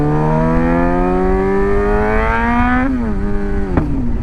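A motorcycle with an aftermarket exhaust revs steadily upward in pitch, then dips and surges again with a sharp blip near the end, sounding close and throaty.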